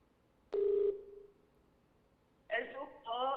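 A telephone call is placed on a landline line during a live broadcast: one short tone burst, a pause, then a run of electronic ringing or dialing tones, heard close and clear.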